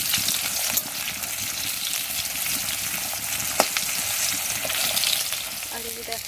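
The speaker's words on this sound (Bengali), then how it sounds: "কিন্তু ফাটছে মাছের মাথা" A fish head fries in hot oil with a steady close crackle and sizzle, punctuated by a few sharp pops.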